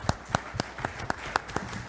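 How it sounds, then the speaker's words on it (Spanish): Sparse, evenly spaced hand claps at a Peruvian political forum held by the Perú Libre caucus, a few crisp claps per second rather than a full roar, fairly quiet with no talking. "Aplausos, por favor."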